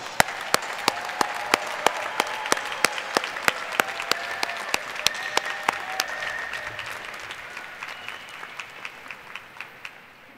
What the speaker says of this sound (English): Please join me in giving every one of these graduates a great round of applause.